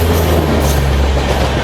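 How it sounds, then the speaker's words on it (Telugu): A superfast train from Guwahati to Bengaluru rumbles past with a loud, continuous low roar and rolling wheel noise, heard close from another moving train. "మన ఎదురుగా చూసుకుంటే గౌహతి నుండి S70 బెంగళూరు వెళ్ళే సూపర్ ఫాస్ట్ ట్రైన్ అయితే వస్తుంది"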